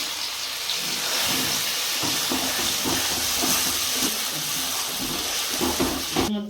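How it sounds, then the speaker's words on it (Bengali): Green pea paste hitting hot oil tempered with asafoetida in a pan over a low gas flame gives a steady, close hiss with soft crackling pops throughout and no talking. "সঙ্গে সঙ্গে আমরা কড়াইশুঁটির পেস্টটা দিয়ে দেব।"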